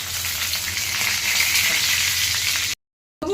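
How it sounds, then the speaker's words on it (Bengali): Cloves, cardamom, cinnamon and bay leaf sizzling in hot oil for a Bengali prawn curry with yogurt, a steady loud crackling fry that cuts out abruptly near the end. "আর এটাতে দেবো লং, এলাচ, দারচিনি, আর দেবো একটুখানি তেজপাতা। এই যে একটুখানি ফাটিয়ে দিয়ে দিলাম।"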